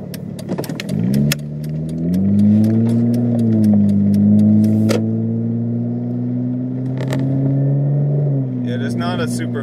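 A 2007 Hyundai Tiburon GT with a 4-speed automatic and 172 horsepower accelerates on the road, its engine note climbing and then holding a steady, droning pitch, heard up close from inside the car.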